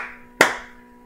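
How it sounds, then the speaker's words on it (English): A single sharp hand clap, the start of the cup song rhythm, rings out alone and close in a quiet room, then decays quickly. "the first thing you're going to do is you're going to clap 2 times."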